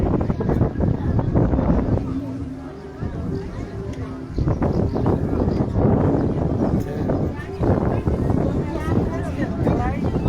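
Gusty wind buffets the microphone in a loud, low rumble that hardly lets up, with voices faintly under it.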